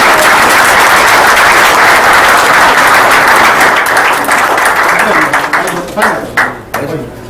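Loud, dense audience applause at an honoring ceremony for a former official, a full crowd clapping steadily before thinning out and fading over the final seconds.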